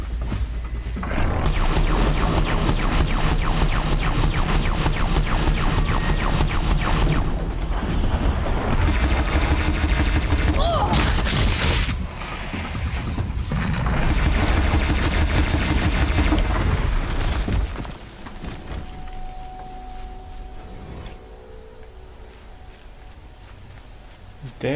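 Rapid mechanical cannon fire from a Ravager machine in the game Horizon Zero Dawn rattles in long dense bursts, broken by short pauses, ending in quieter rumble and a faint tone.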